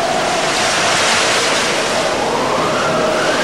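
A stormy sea in a cartoon shipwreck scene, with a dense, continuous roar of huge crashing waves and wind, loud and unbroken throughout, with no voices.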